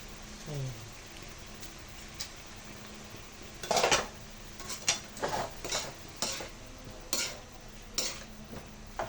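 Stirring Bicol Express in a pot for a first attempt at the dish: a run of sharp utensil scrapes and clinks against the pot, close and fairly loud, with brief talk early on.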